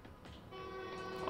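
A train horn in a Spider-Man video game blares as a sustained, steady tone, loud and near, holding on without a break after a short lead-in.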